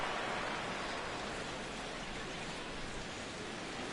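Steady rain falls over a ballpark in MLB The Show 16 baseball video game, a dense, even hiss of rainfall that holds at constant loudness throughout, with no voices.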